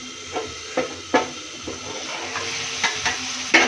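Chicken frying in hot oil sizzles steadily while a utensil stirs and scrapes the pan in several distinct clinks and knocks, close and fairly loud, with no voices.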